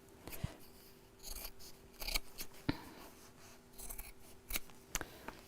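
Scissors snip through fabric pieces, cutting around templates for a sewing-club Easter basket project, in a series of crisp, quiet, close-up cuts with short pauses between them.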